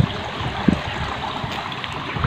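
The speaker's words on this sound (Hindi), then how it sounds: "सबसे पहले इस क्यारे को पानी लग रहा है।" Tubewell irrigation water flowing into a village field plot, a soft continuous trickling and gurgling stream with a few small splashes, fairly close and steady.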